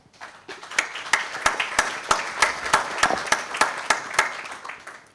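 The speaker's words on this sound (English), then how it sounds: "On va applaudir les panélistes." A conference audience claps for the panelists, starting with a few hands and building into steady applause, with several sharp individual claps standing out at an irregular rhythm near the microphone.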